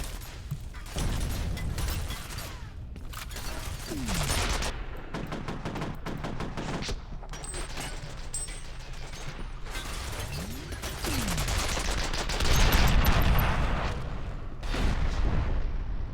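Sentry guns in the video game F.E.A.R. fire in repeated rattling automatic bursts with mechanical clanks and whirs, loud and close, spread across the whole stretch with short gaps between volleys.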